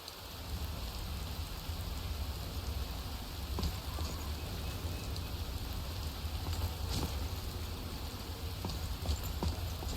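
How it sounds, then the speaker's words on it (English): Steady rain patters continuously on a surface in the video game Skyrim, with faint scattered drips and knocks; no talking, just the even wash of rainfall throughout. "I just want this rain to stop,"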